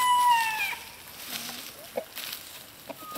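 Free-range chickens being let out to roam give a few soft clucks and short calls, fairly faint and scattered, with a small background chatter of birds and no talking.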